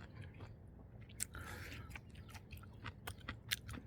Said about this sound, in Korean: 옆에 껍데기를 안 까고 먹으니까 약간 질깃한 게 있을 수밖에 없고요